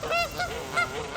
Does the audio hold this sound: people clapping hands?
no